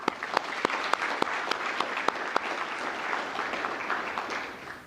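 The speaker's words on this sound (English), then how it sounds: "Give them another round of applause." Steady applause from a graduation ceremony crowd, a dense patter of clapping with a few sharp individual claps standing out, sustained throughout.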